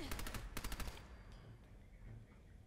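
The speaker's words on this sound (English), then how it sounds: "Can everybody just stop shooting me?" Rapid automatic gunfire is aimed at the player in Fallout 4, a close burst of quick repeated shots in the first second, then fading into a quieter, rumbling background.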